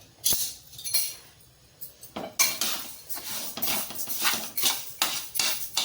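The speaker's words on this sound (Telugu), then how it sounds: "కళాయి పెట్టుకొని ఈ 1/2 కేజీ మినపప్పు దోరగా వేయించుకోవాలి" Half a kilo of urad dal is dry-roasted in a kadai and stirred with a metal spoon. Repeated scraping strokes and light metallic clinks come at an uneven rhythm, close by but fairly soft, with no speech.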